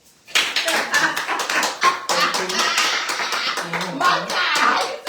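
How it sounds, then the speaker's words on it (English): A small audience in a lounge claps for Assemblyman Erik Dilan. Uneven, close clapping starts abruptly after a quiet instant and carries in irregular bursts, with a few voices calling out over the hands. "Let's all give a round of applause to Mr. Erik Dilan, member 54, Assemblyman."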